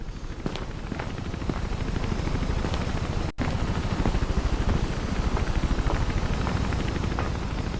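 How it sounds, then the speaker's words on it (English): A helicopter in the video game Mirror's Edge, its rotor beating in a fast, steady chop under a loud low drone that continues for several seconds with one split-second dropout partway through, close and without speech. "We got to the chopper."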